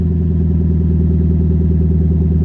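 A 2021 Toyota Tundra with a straight-pipe exhaust rumbles loud and close with a deep, pulsing, steady engine note that holds a constant pitch without clear rises, no voices over it.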